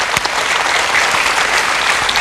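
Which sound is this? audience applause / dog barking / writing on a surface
audience applause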